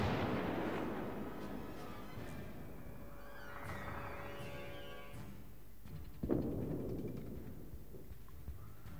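Booming naval gunfire from automatic secondary ship guns in World of Warships, a continuous rumbling barrage with a sharper blast near the six-second mark, dense and fairly loud throughout.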